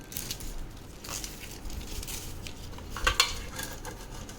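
A cake tin being readied for a sugar-free plum cake: scattered clinks and scrapes of metal utensils and the tin, with a louder clatter near the end, close and unaccompanied by speech.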